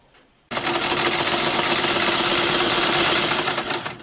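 A vintage sewing machine starts after a quiet moment and runs continuously while sewing, a loud, steady whirring hum close by that holds to the end.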